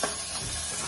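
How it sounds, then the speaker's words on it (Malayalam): Crushed cumin, pepper, curry leaves, dry chili and garlic sizzle steadily in a hot pan for a home-cooked pepper rasam, a close, even frying hiss with no talk. "ഇനി നമ്മൾ ആ ചതച്ച് വച്ചിരിക്കുന്ന ജീരകം, കുരുമുളക്, കരിവേപ്പില, ഡ്രൈ ചില്ലി, വെളുത്തുള്ളി എല്ലാം കൂടെ അതിലേക്ക്"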